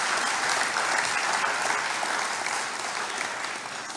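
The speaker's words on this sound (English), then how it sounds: "I would want us all to give him a resounding round of applause" A lecture-hall audience gives a sustained round of applause honoring Professor George Lamming's 90th birthday, dense even clapping at moderate level that slowly tapers toward the end.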